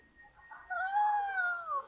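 A cat mob from the Minecraft Mo'Creatures mod gives one drawn-out, rising and falling meow, clear and close, after a faint lead-in with no talk over it.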